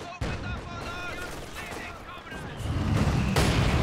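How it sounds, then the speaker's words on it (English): Soviet mortar and gunfire in the Company of Heroes 2 strategy game, sharp cracks and booms with rattling small-arms fire under someone commentating, growing heavier and louder toward the end. "Got a regular Soviet mortar coming in for KIROV."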